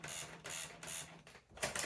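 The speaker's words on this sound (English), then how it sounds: "So we can see the printer is going" A printer driven by a Tandy CoCo 2 computer, with rhythmic bursts of mechanical buzzing print-head passes broken by short pauses, faint and close.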